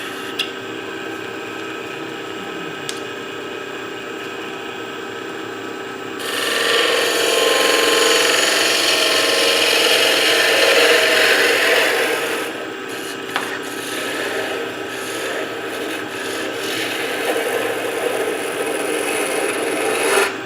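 A wood lathe spins a hemispherical wooden workpiece with a steady tonal hum. A louder, rasping scrape of a tool against the wood swells in midway and then eases back. There is no talking.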